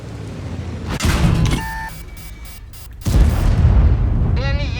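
A tank cannon fires twice in a tank battle game. Each shot is a loud, deep boom with a rumbling tail, and brief electronic beeps sound in the gap between them.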